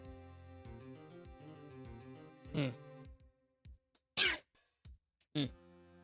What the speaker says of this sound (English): I drank some water, but it went down the wrong pipe, so I'm sorry if I cough a little